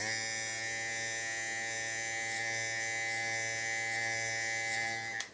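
An electric hair clipper buzzing steadily and close during a hair fade, a constant loud motor drone with no talking.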